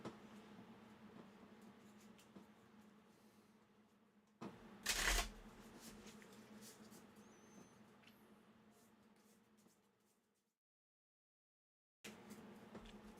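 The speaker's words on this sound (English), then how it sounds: "Shuffle these in." Disney Lorcana trading cards being shuffled by hand on a tabletop, with a soft steady riffling rustle, one louder burst of card slaps, then a brief pause before the handling resumes.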